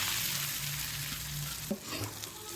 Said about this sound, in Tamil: இப்போ வந்து கடுகு கருவேப்பிலை சில்லி பவுடர் கொஞ்சமாக போட்டிருக்கோம்